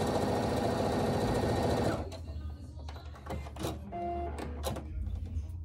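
A sewing machine stitches a quarter-inch seam on a quilt piece, running steadily and loudly for about two seconds before stopping, followed by quieter handling and shuffling of fabric.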